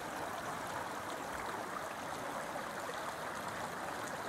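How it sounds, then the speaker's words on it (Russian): The Lamington River flows at Hacklebarney State Park in Long Valley, New Jersey, in late winter: a faint, even, continuous wash of running water with no other sounds. "ручей в Hacklebarney State Park"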